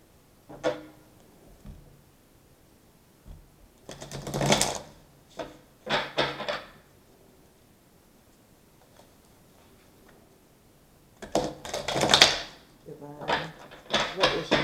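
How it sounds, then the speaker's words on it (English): Large cards shuffled by hand in bursts of riffling and flicking, separated by quiet pauses, close and fairly soft, with no voice over them. "So let me just shuffle some cards."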